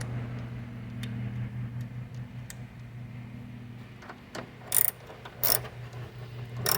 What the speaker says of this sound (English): So you're going to need a socket to remove those bolts.